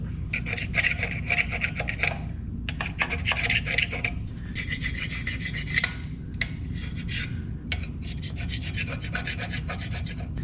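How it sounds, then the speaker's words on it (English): Super Scraper blade scraping old RTV sealant off an engine mounting surface on a Datsun, a close, steady run of rough rasping strokes in bursts with short gaps between them. "The Super Scraper does a good job."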